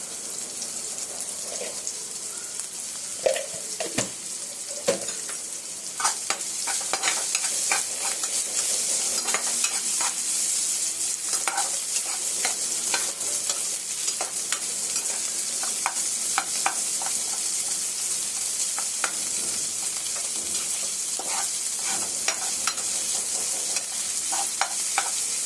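Chopped onion sizzles steadily in a pan for an Indian potato sabzi, with frequent scraping, clicking strokes of a spoon stirring it through the frying; no one talks.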